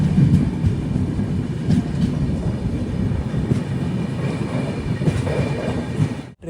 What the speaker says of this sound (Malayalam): ട്രെയിനിപ്പോൾ ന്യൂ ജൽപൈഗുരിയിലേക്ക് എത്തി.